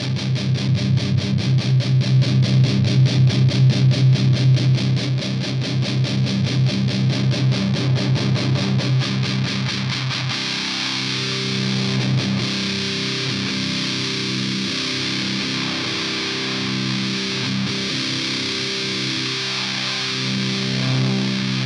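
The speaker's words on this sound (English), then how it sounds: "We're on the Big Muff Pie, excuse me." Electric guitar played through a Digitech DF-7 Distortion Factory pedal set to its Big Muff mode, giving a thick, fuzzy, sustained tone; a loud rhythmic chugging passage for about ten seconds gives way to ringing, held chords.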